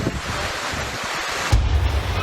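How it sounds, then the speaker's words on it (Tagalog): Rain and strong wind lash Barangay Maasin in Leyte, Philippines, as a loud, steady rushing roar with a heavier gust buffeting the microphone near the end. "Umuulan at ramdam ang malakas na hangin sa barangay Maasin sa Leyte kaninang umaga."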